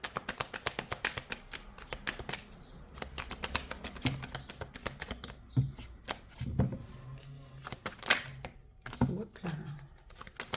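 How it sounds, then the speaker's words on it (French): Deck of oracle guidance cards being shuffled by hand, a dense run of quick papery riffles and taps, close and fairly loud, in bursts with short pauses and no talking. "Allez, on mélange les cartes pour ce 25 août 2026."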